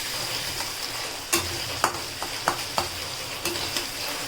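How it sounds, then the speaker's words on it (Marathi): Chopped onion and cumin sizzling in a pan, a continuous close fry hiss punctuated by several sharp scrapes and clicks of a spoon stirring at irregular intervals, with no voices. "कांदा आपण आता मिक्स करून घेऊयात"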